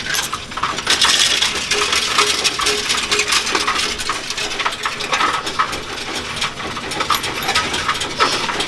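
A steady, dense metallic rattle of many coins, including pennies, pouring and clinking through a Coinstar coin-counting machine, continuous for several seconds with no talk.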